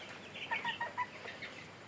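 Chickens on a small poultry farm cluck softly nearby, giving a brief run of four or five quick clucks in the middle of a quiet stretch, with low background hum and no voices.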